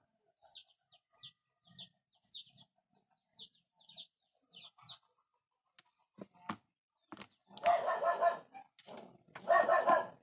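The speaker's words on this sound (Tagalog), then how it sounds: "Ito kasi may mga aso kami dito, kaya kapag may dumaan na aso din, ayun." Dogs bark at a Philippine home, a run of short, evenly spaced barks at moderate distance, followed by a couple of louder, longer bursts of barking.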